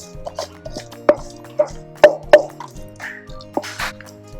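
Sticky chocolate raspberry granola mixture pressed and dropped onto a non-stick mat, a few soft plops and taps spaced over a couple of seconds, close and fairly quiet.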